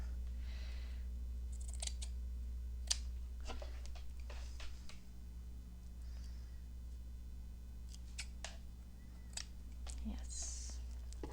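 Scissors snip paper for a lace-covered postcard craft, giving a few short, close, crisp cuts scattered over a quiet hum, with soft whispered speech in between.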